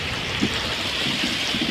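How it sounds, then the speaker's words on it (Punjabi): Heavy rain pours in a dense, steady hiss in Muktsar Sahib, flooding the roads, with a few low thumps underneath. "ਮੀਂਹ ਬਹੁਤ ਜ਼ਿਆਦੇ ਆ ਸੜਕਾਂ ਦੇ ਪਾਣੀ ਥਲਤਾ ਆ"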